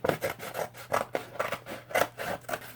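Scissors snip and rasp through a cardboard book mailer package in a rhythmic series of close cuts, about a dozen strokes alone without talk.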